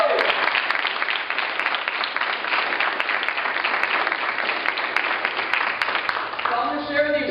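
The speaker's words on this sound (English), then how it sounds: "Let's give you all a round of applause." Crowd applause at a business motivational talk, loud sustained clapping from a large audience filling the room, continuous and dense until it begins thinning near the end as a voice comes in.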